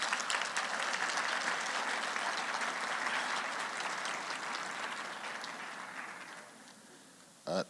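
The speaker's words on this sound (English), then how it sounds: "Give yourself a round of applause," Sustained applause from a graduation ceremony audience, a dense steady clatter of clapping that slowly thins and fades toward the end, with a brief louder burst just before it stops.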